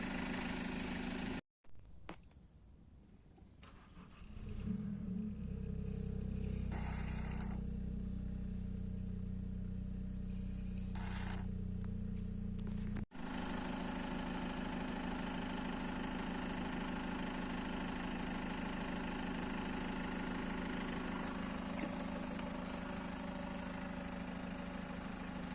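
Car engine idling steadily during diesel particulate filter cleaning, a close continuous low rumble that settles in after a brief start and runs on without talk.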